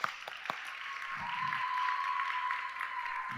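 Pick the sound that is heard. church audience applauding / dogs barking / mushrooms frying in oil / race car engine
church audience applauding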